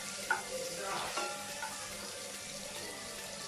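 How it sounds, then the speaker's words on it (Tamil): Ingredients for restaurant-style paneer butter masala fry lightly in a pan, a faint, even sizzle with a small clink near the start. "இப்போ நல்லா இதை கொஞ்சம் ஃப்ரை பண்ணிக்கலாம்"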